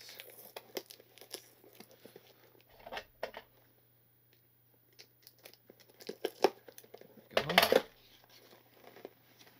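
Tape being torn off a taped-shut cardboard box in a diamond painting unboxing: quiet crinkles and rustles, then one loud ripping tear near the end, alongside soft talking.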